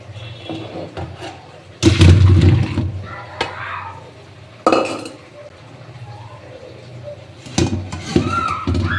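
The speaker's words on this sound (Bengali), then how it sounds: "এবার এটা আমি জল ঝরিয়ে নেবো" Water from boiled cauliflower is drained in a kitchen, with bursts of splashing and pouring mixed with clanks of a metal pot and utensils, occurring in several separate loud bursts between quieter pauses.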